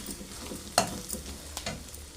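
Fish roe fries in a pan, giving a quiet, steady sizzle with a sharp clack of a utensil near the start and a few fainter stirring scrapes afterward, with no talking.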